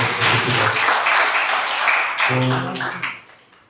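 Loud, steady applause from an audience at a school inter-house quiz competition greets the quizmaster, clapping densely for about three seconds before tapering off.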